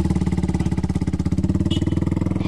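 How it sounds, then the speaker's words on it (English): A Harley-Davidson motorcycle idles or passes nearby at a cricket match, its loud, lumpy engine pulsing in a steady, rapid rhythm throughout. "Harley Davidson, you might be able to hear us there behind us."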